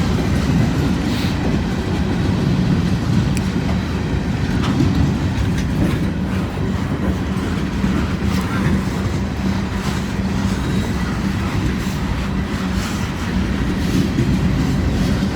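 A long CSX freight train with boxcars rolls past on a rainy day, its wheels clattering in a steady clickety-clack with constant loud rumble throughout and no voices.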